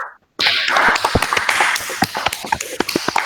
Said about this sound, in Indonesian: Silakan berikan aplaus.